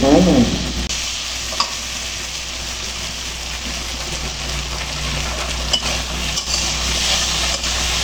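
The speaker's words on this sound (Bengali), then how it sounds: "আমার মশলা কষানো প্রায় হয়ে গেছে এখন তেল উপর থেকে তেল ছাড়তে শুরু করে দিচ্ছে" Spice paste for a rohu fish curry fries in oil, giving a steady, close sizzle with occasional stirring scrapes throughout, no talking over it.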